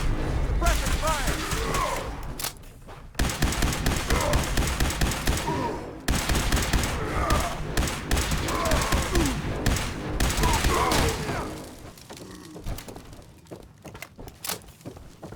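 Dense, sustained gunfire from the video game Fallout 4, with rapid automatic bursts and heavy shots rattling almost continuously, loud and close, thinning out toward the end.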